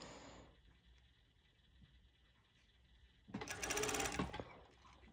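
Sewing machine stitching stretchy fabric with a zigzag stitch while elastic is pulled, a single loud burst of close, rapid stitching about a second long after a quiet stretch, without talking.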